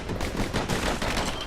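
Rapid gunfire from slinger pistols in the video game Bastion, a dense, continuous burst of loud crackling shots with no pauses.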